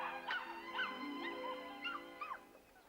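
Cartoon puppy whimpering and howling in a series of short rising and falling cries, about five high-pitched yelps over a steady soft background, fairly faint.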